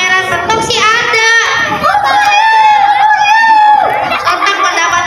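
A crowd of children shout and cheer together loudly and close, with overlapping high voices rising and falling continuously.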